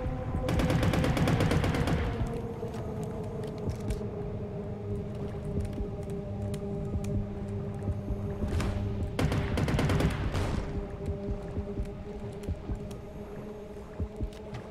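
A harpoon gun fires in the underwater game Depth, with sharp bursts of shots near the start and again around the middle, set against a steady humming underwater background.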